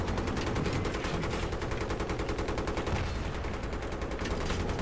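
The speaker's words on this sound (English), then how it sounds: "What is shooting? It's like something is automatically shooting." Sustained automatic gunfire from a gunship in Battlefield 3 hammers on in a rapid, continuous stream of loud shots with no pause, heavy and booming throughout.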